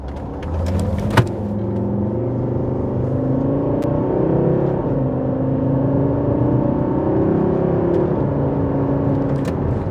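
A high-mileage Volvo XC70 engine drones and revs on narrow country lanes, loud and close inside the car, the pitch rising and falling with throttle changes through the whole stretch.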